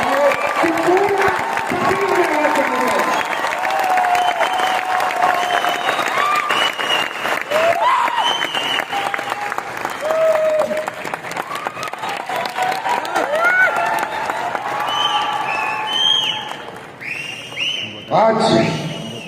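Sustained loud applause and some cheering from a large crowd at a corporate gathering, continuous clapping throughout with a voice speaking over it, thinning toward the end.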